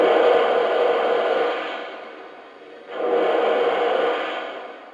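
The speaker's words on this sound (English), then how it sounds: "And here's the cylinder steam sound." A Lionel A6 Atlantic model steam engine gives off its cylinder steam sound effect, two loud hissing bursts of chuff-like steam, each fading out before the next begins, small-speaker quality with no talk.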